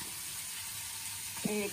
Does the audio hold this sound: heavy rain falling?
no